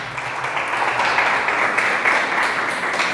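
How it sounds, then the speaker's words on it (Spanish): A church congregation claps and applauds together in a dense, steady wash of clapping that lasts throughout, fairly loud and close, with no clear speech over it. "Denle un aplauso a Dios por ello."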